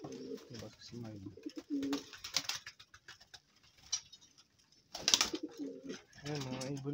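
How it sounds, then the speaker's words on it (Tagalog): Pigeons in a loft coo softly and repeatedly, with light fluttering and shuffling around them, all fairly faint and close. "Ayan, mga ibon natin,"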